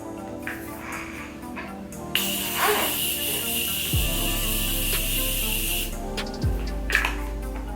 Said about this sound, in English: I'm gonna go ahead and set my face with the Morphe Continuous Setting Spray